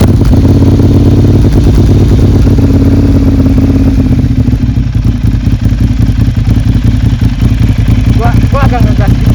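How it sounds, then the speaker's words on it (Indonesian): A Ducati Hypermotard 796 fitted with a Thermic exhaust rumbles steadily nearby in a residential complex, its engine note lifting slightly partway through as the throttle is blipped, with a voice talking over it. "Nah kalian penasaran sama bunyi dari exhaust Thermic Noni ini?"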